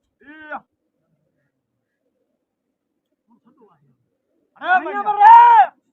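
Pigeons cooing at a pigeon-flying contest, heard as a short soft call near the start, then a louder, fuller burst of throaty cooing near the end, with quiet gaps between.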